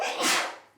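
A single short, breathy sneeze during a school committee meeting, brief and moderately loud, heard alone in the room.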